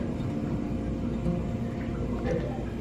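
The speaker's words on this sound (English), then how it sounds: "If you hear that in the background, it's the ice machine." A hotel ice machine hums steadily at the end of a hallway, a constant low drone that fills the background without pause.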